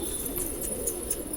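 Pigeons in a fancier's loft in Okhla, Delhi, coo softly and steadily, low murmuring calls repeating close by with no talk over them.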